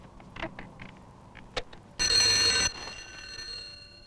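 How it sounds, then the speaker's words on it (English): The alarm bell of a stopped cable car rings loudly for about a second, a metallic electric trill standing out over a quiet hum, with a few faint knocks beforehand. "That sounded like the cable car alarm."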